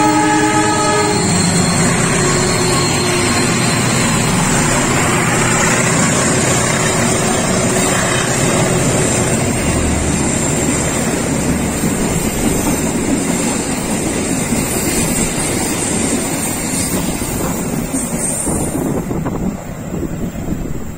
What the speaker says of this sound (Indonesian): Kita tunggu kereta api Serayu yang akan segera melintas dari arah Ciawi.